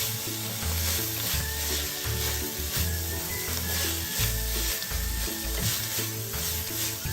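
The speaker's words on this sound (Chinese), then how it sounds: "再将所有食材一起炒匀" Char siu bao filling being stir-fried in a wok, with a continuous close sizzle and repeated scraping, clattering strokes of the spatula in an uneven rhythm.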